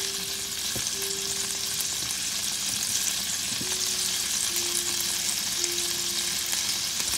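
Shrimp sizzle steadily over low heat in a pan, a continuous crackling fry with occasional stirring clinks, close and alone with no talk.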